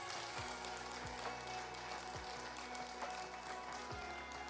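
A church congregation applauding in praise, a steady dense wash of many hands clapping at moderate distance, continuous throughout with a low hum and a few deep thumps beneath.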